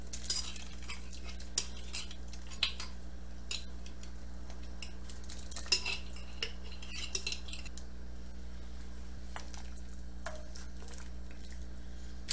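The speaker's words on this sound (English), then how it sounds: "I'll just take a knife, just insert it in the center just to break it up" A metal knife clinks and scrapes against a soup pot while breaking up cooked chicken for chicken noodle soup, with scattered soft taps and squishy stirring over a low steady hum; quiet and close.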